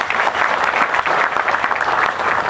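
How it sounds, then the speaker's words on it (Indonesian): Audience applause at a Kenduri Cinta gathering with Emha Ainun Nadjib, a loud, sustained roar of many hands clapping together with no pause. "Tepuk tangan untuk dia."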